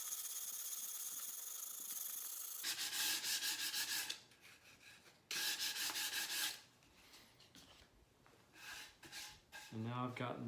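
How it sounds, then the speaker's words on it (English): A wooden tray piece has its end sanded by hand, with long bursts of rasping rubbing that stop and start in steady strokes; a brief voice sounds at the end. "it's going to be much harder to sand the end like I'm doing right now"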